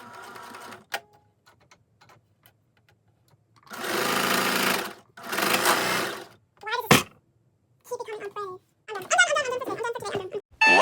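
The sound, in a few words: sewing machine sewing ruffles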